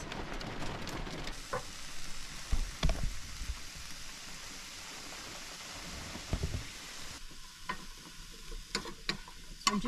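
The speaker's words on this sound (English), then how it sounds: "I'm just going to cook this until all the prawns have turned pink." Prawns frying in a pan at a car campsite, a steady soft sizzle with occasional stirring scrapes and clicks, close and fairly quiet, with no talking.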